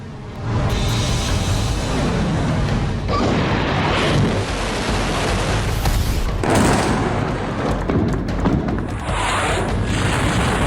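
BrahMos missile strike explosions, a dense continuous roar of loud booms and rumbling blasts that keeps up without pause, heavy and close, with no voices.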